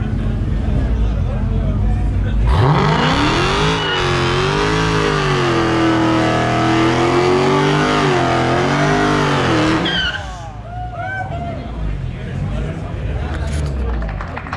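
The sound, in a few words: turbo 351W car revving during a tire-shredding burnout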